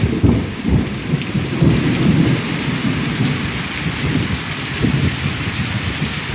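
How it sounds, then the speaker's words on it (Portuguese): A heavy thunderstorm at a rural farm property, with a dense, loud roar of rain on surfaces and deep rolling rumbles of thunder all through, heard from indoors and without any voices. "Tá caindo muito raio mesmo hoje"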